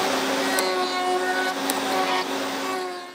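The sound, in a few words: milling machine cutting off corners of a part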